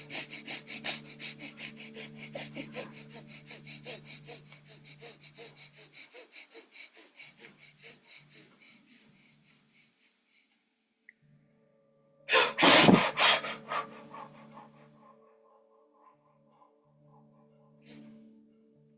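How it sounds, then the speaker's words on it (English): A person performs rapid rhythmic breathing, a fast series of forceful nasal exhalations that slowly weaken and trail off, then a loud rough burst of breath and rustling near the microphone. "I'm going to be breathing, Shakti breathing for a little bit."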